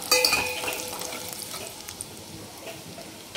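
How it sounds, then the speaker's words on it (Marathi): Chili powder and coriander powder frying in a pan, a soft continuous sizzle with light stirring scrapes, close and moderate, no talk. "याला पण तळून घ्यायचं चांगलं"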